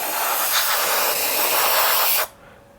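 A continuous airbrush spray of paint hisses steadily for about two seconds, then cuts off abruptly, leaving quiet room tone.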